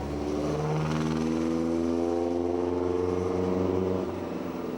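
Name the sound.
4.5-litre Bentley vintage racing car engine at hill climb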